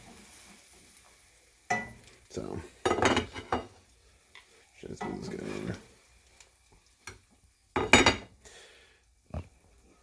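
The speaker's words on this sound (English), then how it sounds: "Oh yeah, here's some sizzling action going on." A chicken breast cutlet fries in a pan with a soft continuous sizzle under scraping and clinking bursts as it is moved about, while a person talks briefly.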